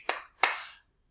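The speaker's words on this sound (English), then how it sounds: "clap your hands" Two sharp hand claps in a children's singing game, crisp and close, spaced about a third of a second apart, with silence after.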